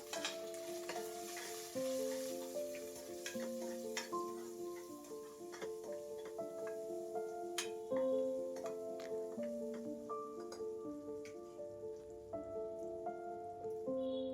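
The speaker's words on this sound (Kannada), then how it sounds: "ಎಲ್ಲ ಹಾಕ್ಕೊಂಡು ಚೆನ್ನಾಗಿ ಈಗ ಫ್ರೈ ಮಾಡ್ಕೋಬೇಕು ಈರುಳ್ಳಿ ಸ್ವಲ್ಪ ಫ್ರೈ ಆಗಬೇಕು" Onions frying in a pan with turmeric for a black chana and green peas curry, a low sizzle under frequent clicking taps and scrapes of a spoon against the pan, with pitched tones ringing out over the top throughout.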